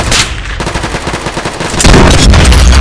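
Gunfire in a Roblox Squid Game match, a quick string of loud rapid shots ending in a heavier sustained burst, close and dense with no talk over it.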